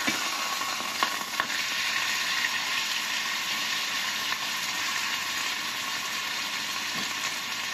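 Chicken pieces frying in oil over low heat, a steady close sizzle and crackle with occasional louder pops, continuous throughout with no talking.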